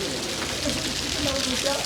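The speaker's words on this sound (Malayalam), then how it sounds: "ഇത് മറ്റേ ഓളിനകത്തുനിന്ന് വീഴുന്ന വെള്ളമാണ്" After a desert rain, water drips and patters steadily off a roof in a dense, close wash, with people talking over it.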